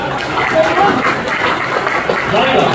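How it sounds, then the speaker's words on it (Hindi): Sustained, dense applause from a live comedy show audience in Meerut, steady and loud throughout with no clear break. "आगे से लेके पीछे तक ताली बजाना एक बार जोरदार"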